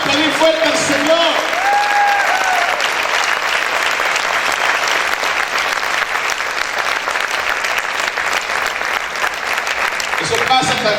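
Church congregation applauding loudly, dense sustained clapping from a crowd that fills the room for about ten seconds and then tapers off, with a voice briefly audible at the start.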